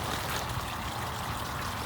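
Pond water pours steadily from a newly replaced water pump at a koi pond with a waterfall, a continuous close splashing rush with no pauses.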